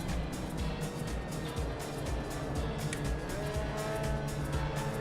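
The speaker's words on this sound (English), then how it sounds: "he just dumps the clutch into the next gear when the revs are too low, and it locks up the rear tires for a brief second" An MX5 Cup race car in a VR racing game at Silverstone downshifts hard, its rear tires briefly locking with a squeal over a steady, loud engine drone, alone without voices.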